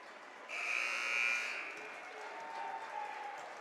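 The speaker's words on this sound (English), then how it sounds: "As the buzzer sounds" A loud buzzer blares for about a second amid crowd noise at the end of a basketball game in an arena, followed by lingering cheers and murmur.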